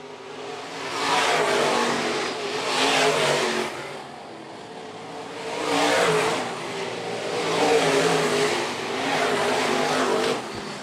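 IMSA modified race cars roar past on the Phillips County Raceway dirt oval, engines swelling and fading in repeated loud passes as the field circles the track.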